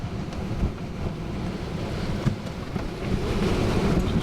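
A stiff north-easterly wind roars over the small sailing yacht Mingming II running before it at sea, with waves rushing past the hull in a constant loud, rumbling wash and gusty microphone buffeting, no voices.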